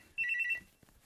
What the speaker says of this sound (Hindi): फोन बज रहा है, कौन हो सकता है?